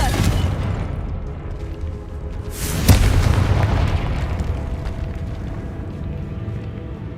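Confringo blasting spell going off in Hogwarts Legacy, a deep rumbling boom that peaks sharply then rolls on as a sustained roar.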